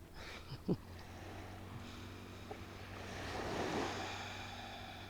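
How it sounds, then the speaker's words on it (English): Ocean waves wash up on a beach, a soft, distant surf that swells gently toward the end, mixed with faint wind rumble and one brief knock near the start. "I almost got washed away by the waves a few times"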